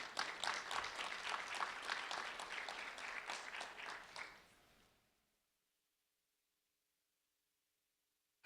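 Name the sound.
audience applause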